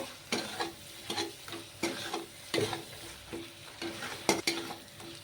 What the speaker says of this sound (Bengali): মশলাটা দিয়েও ভালো করে নেড়ে চেড়ে নেবো আর একটু ভেজে নেব